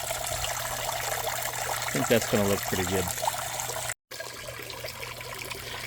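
Water trickles steadily from a garden hose kinked and squeezed by a zip tie into a bathtub, a continuous close hiss that runs throughout while a voice speaks briefly midway.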